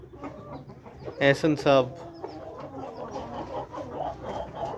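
Aseel chickens of an Amroha breed line clucking and calling in a few loud bursts close by, with someone speaking over and between them.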